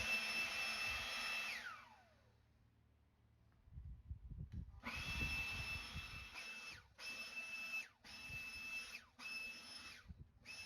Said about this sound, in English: I'm going to get the leaf blower and push those back into the lawn